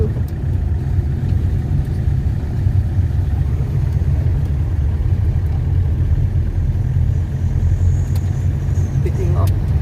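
A car engine rumbles steadily in fourth gear at low speed on a mountain road, a continuous, loud, close drone with road noise and no talk.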